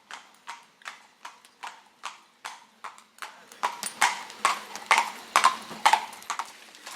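A horse pulling a carriage on a drive clip-clops at an even trotting rhythm, with crisp regular hoof strikes that grow louder and more ringing midway through, heard alone without talk.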